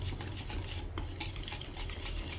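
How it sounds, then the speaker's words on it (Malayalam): Vanilla essence being mixed into batter for maska buns, a steady scraping and stirring sound with light clinks of a utensil against the bowl, continuous and close, with no voices. "വാനില എസൻസും നന്നായി മിക്സ് ചെയ്യുക."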